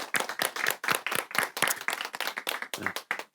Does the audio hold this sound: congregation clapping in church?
yes